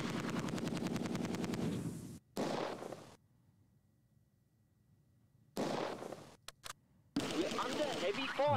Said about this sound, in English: They're going to get ripped apart by this MG42.